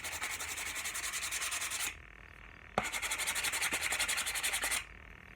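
Sandpaper rubbing back and forth over the wooden handle of a tomahawk, a steady rhythmic scratching in two close, loud bursts separated by a short pause.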